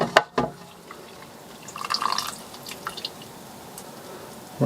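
Water being drained from a cooking pot outdoors, with a brief splash at the start, then soft trickling and dripping, fairly close and moderate in volume.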